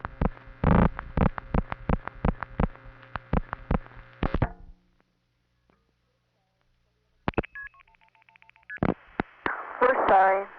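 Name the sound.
telephone dialing a vacant code in the 216 area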